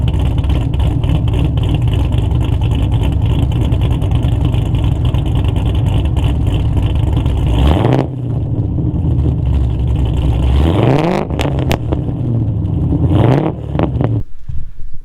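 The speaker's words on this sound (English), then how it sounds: "Let's give you guys a couple of revs here." An LS V8 engine in a BMW E36 runs loud and steady on a cold start in snow, then revs up in a few sharp bursts with rising and falling pitch near the end.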